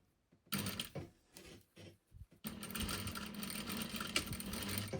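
A sewing machine stitches over an existing seam while a single welt pocket is made, first in brief stop-start bursts, then in a steady close mechanical whir.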